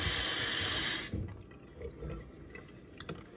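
A tap runs for about a second with a bright rushing hiss into a cup of warm soapy water, then cuts off, leaving quiet drips and small trickling sounds.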